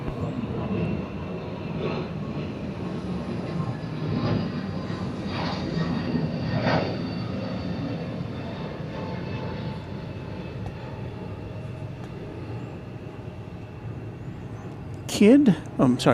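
A departing airliner at Atlanta's airport roars steadily from a distance, a continuous broad jet rumble holding for most of the stretch, with people talking over it.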